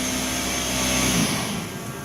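An air compressor on a lawnmower/motorcycle lift runs with a loud, steady mechanical whine and hum, close by, its tone dropping slightly near the end as it winds down.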